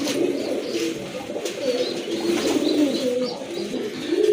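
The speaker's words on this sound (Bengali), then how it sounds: "মাশাল্লাহ এক জোড়া কবুতর দেখেন" A pair of black-and-white loft pigeons coo steadily and softly, with repeated low, throaty calls over a faint background murmur and no talking.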